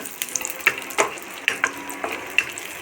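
Almonds and cashews sizzle in hot ghee for Deepavali laddu, a soft steady frying hiss broken by several sharp clicks and pops of the nuts stirred in the pan, close and fairly quiet, with no voices.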